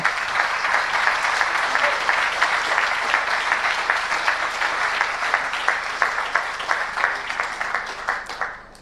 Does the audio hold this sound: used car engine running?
no